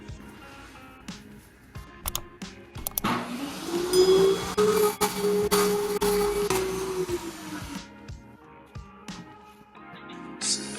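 A power saw rips a narrow strip off the edge of a wooden board to give it one straight side, cutting loudly and steadily for about four seconds between quieter handling noises, with no talk.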